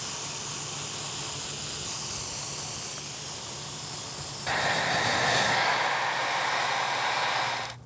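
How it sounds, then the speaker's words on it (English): Tamiya red spray paint sprays from a can onto a prop Lego sword and shield in a steady, loud hiss. It sharpens and brightens midway, then stops abruptly. "More Tamiya paint going with the red."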